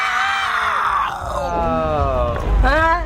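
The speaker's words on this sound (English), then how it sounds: "can you please give a metal scream for the fans? Just scream it!" A band member of a metal group lets out a sustained metal-style scream for fans during an interview, a raw harmonic vocal lasting about three seconds with a brief rise near the end, loud and close.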